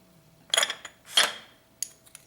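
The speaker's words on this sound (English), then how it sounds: "Let's chop our tomatoes." A knife chops tomatoes on a cutting board while salsa is prepared, a few separate sharp taps and slicing knocks spaced irregularly with quiet gaps between them, close and clear with no talking.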